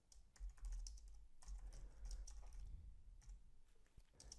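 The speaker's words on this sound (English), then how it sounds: "I'm typing a backslash" Rapid keystrokes on a computer keyboard while entering Python code, a steady run of close, crisp clicks with brief pauses, no voices.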